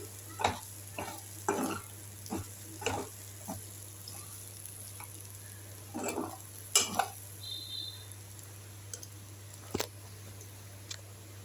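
Raw banana fry being stirred in a pan with garam masala, a spoon scraping and clacking against the pan in several short strokes over a faint background hum, with no talk.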